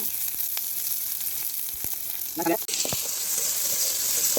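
Onion dropped into hot oil with mustard seeds, a steady close hiss of frying with a few small pops and a brief clatter as the onion goes in, then continued sizzling.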